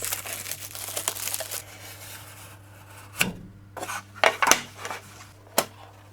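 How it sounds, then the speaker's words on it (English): Packaging on a Call of Duty: World at War collector's box being unwrapped and torn open, with rubbing, crinkling rasps and several sharp tearing bursts near the end over a low steady hum. "Now let's unwrap and open the box,"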